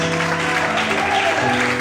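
A church congregation claps hands during an evening worship service, a dense, steady wash of many hands filling the space alone, with music-like tones sustained underneath.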